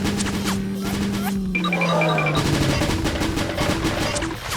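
Cannon on the back of a giant robotic LEGO dinosaur firing as a sound effect: a rapid burst of crashing, gun-like blasts after a humming tone, loud and close, with a mechanical whine running through.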